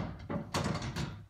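A wooden cabinet drawer in a new mobile home is pulled open, giving a short scrape and slide with a couple of soft knocks, close and fairly quiet, with no talking.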